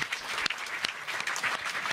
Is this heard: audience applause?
yes